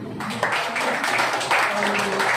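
An audience claps at an office meeting for an alternative-therapy demonstration, applause rising in two bursts under a man's continuing speech.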